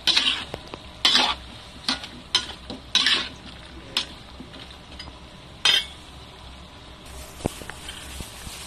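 Papaya chunks going into a pot of Filipino chicken binakol, with repeated sharp scrapes and clanks of a utensil stirring against the pan over a steady low sizzle.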